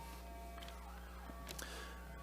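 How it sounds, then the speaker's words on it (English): Faint sirens wail outside, distant and muffled, with a rising and falling tone over a low background hum. "As we hear a potential bad thing happening outside with the sirens"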